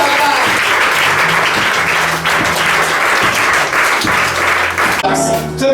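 A church congregation at a worship service applauds loudly and steadily, a dense wash of clapping close by with a few voices mixed in.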